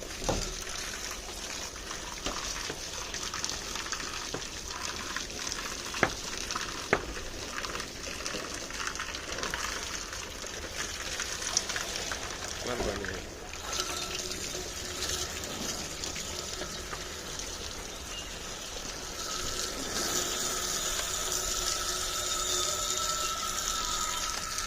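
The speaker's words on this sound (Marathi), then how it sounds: "किंवा पाणी मारूया." Steady hissing spray of water from a hose washing a rooftop solar water heater, a continuous gushing wash that grows slightly stronger toward the end, with no talk.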